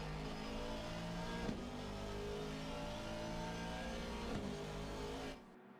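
Race cars lap Brands Hatch in a sim racing game, engines droning loudly and steadily with a sustained revving whine and slight pitch shifts, cutting off near the end.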